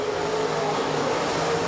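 USRA B-modified race cars running a heat race at a dirt speedway, a steady dense engine roar from the pack held at constant loudness throughout, with no voices.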